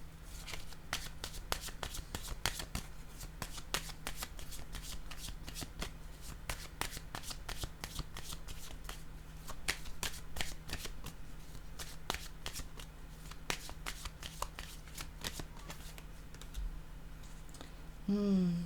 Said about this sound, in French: Attendez, je vais piger une autre carte ici.